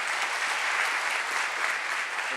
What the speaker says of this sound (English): I think a very big applause to them for their efforts.